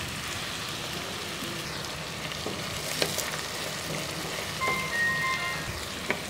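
Beaten eggs frying in a pan beside onions for Bangladeshi-style Chinese chicken fried rice, a steady soft crackling sizzle with faint stirring scrapes and a few light clicks, alone without talk.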